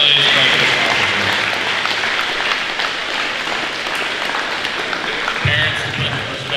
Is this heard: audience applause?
yes